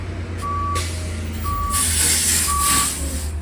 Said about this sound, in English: More beeping sound.